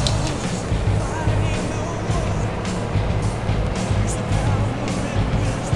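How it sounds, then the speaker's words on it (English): A high-gear truck in the driving game King of the Road revs steadily through its gears, a continuous engine drone with shifting tone and faint babble-like noise underneath. "Just gotta really fly through the gears with this truck."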